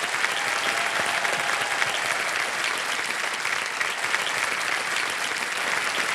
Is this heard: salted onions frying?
no